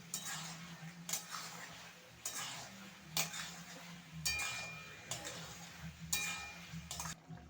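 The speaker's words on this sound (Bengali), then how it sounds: "এবার আমি ভেজে রাখা চিকেনগুলোকে দিয়ে দিচ্ছি, মিশিয়ে নেব খুব ভালো করে।" Spatula stirring fried chicken pieces into a chili chicken sauce in a pan, rhythmic metallic scrapes and clinks roughly every second over a low background rumble.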